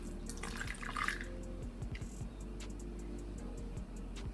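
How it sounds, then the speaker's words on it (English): Cooled rosemary water runs through a funnel into a spray bottle, a quiet steady trickle and splash of liquid with small drips throughout, close and soft. "after the rosemary water cooled down, and funnel it into the spray bottle"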